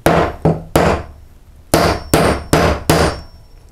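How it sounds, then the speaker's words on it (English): A nail is hammered into a wooden wall stud with seven sharp, ringing strikes, an uneven pair and a single blow, then a pause and four evenly spaced hits, each close, loud and decaying quickly. "So I'll actually nail this piece onto a stud."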